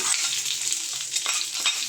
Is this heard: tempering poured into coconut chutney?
yes